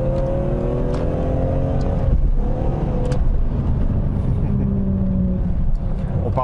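A BMW M3 E46 with its S54 engine accelerating through a roundabout, a rising engine note with shifting tones heard from close by over steady road noise, and a quick revving surge near the end.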